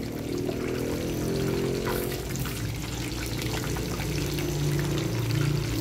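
Food sizzles steadily in a frying pan as stuffed eggplant and okra for homestyle yong tau foo cook, a continuous close hiss with faint clatter and no talk.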